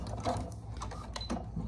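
Sewing machine running a zigzag stitch on a feedbag tote, a short steady mechanical whirr with rapid needle clicks, close and alone.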